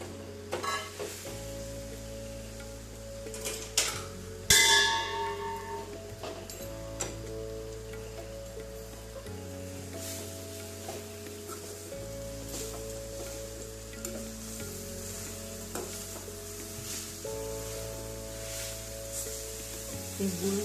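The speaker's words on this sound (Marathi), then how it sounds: "इकडेपर्यंत अक्षरशः गुळ वितरेपर्यंत आपल्याला हे असंच हलवत राहायचं आहे" Grated coconut and jaggery mixture stirred in a pan, soft sizzling under repeated scraping strokes of a spoon, with a low steady hum beneath, close and continuous.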